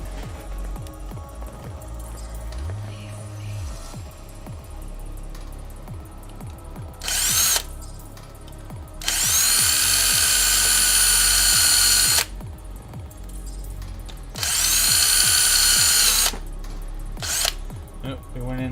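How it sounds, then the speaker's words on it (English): A power drill bores into a plastic Warhammer 40K Hive Tyrant model, with several loud whirring bursts of a few seconds each separated by pauses, preceded by quieter handling noises and a short low hum. "Let's get the drill."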